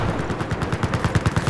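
Rapid automatic gunfire in a Battlefield 4 match, an evenly spaced string of punchy shots fired in quick succession, loud and close with no voices.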